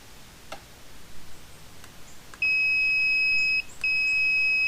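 A steady high electronic tone switches on as the ignition points open on a 1977 Chrysler 35hp outboard, holds for about a second, cuts out briefly, then resumes, with faint ticks before it.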